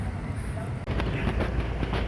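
A light rail train rolls through Dr. Santos LRT station in Pasay, a loud continuous rumble with rhythmic clicking of wheels over rail joints.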